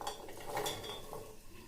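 A kilogram of carrots tipped into a pressure cooker while making gajar ka halwa, giving a short burst of clattering and knocking against metal that settles into lighter rattles, close by with no talk.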